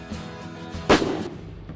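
Single rifle shot fired at a fox silhouette target, about 300 metres away, during a field shooting event: one loud, sharp crack followed by a short rolling echo that fades out.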